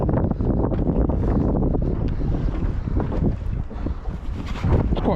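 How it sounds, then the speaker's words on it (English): Heavy wind buffets the microphone on a charter fishing boat at sea, a loud continuous rumble with gusty roar and no voices. "It's quite windy out here, so you will get a bit of wind noise"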